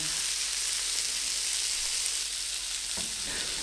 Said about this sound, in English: I want to put the steaks into the pan. I want to cook the steaks, move them about